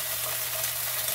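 Food frying in a pan gives a steady, close sizzle with soft crackling that runs unbroken throughout.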